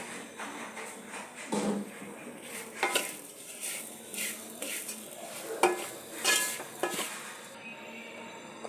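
Chopped onion cooks in a pan for coconut chammanthi powder: a faint sizzle under repeated spatula scrapes and light metallic clinks against the pan, in uneven bursts.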